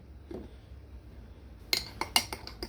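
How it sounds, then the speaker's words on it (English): A metal spoon stirs coffee in a cup, giving a quick run of bright clinks and taps against the cup after a quiet start, close and fairly soft. "I'm gonna stir this even though I wouldn't normally."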